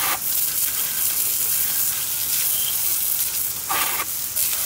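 Garden hose water sprays steadily onto a 1986 Honda XR250R dirt bike, a close, continuous hissing spray with brief louder bursts as the stream hits metal parts, no talking.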